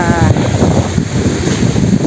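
Strong wind buffets the microphone while sea waves wash in a continuous loud roar at a beach in Hugom, San Juan, Batangas, with no distinct voices.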